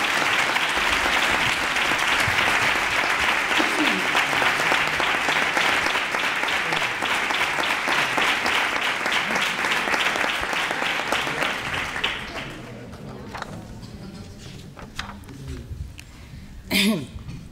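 Warm applause from an audience at a Three Kings proclamation and coronation event in Nerva, a sustained dense clapping that fades around twelve seconds into scattered claps and a cough.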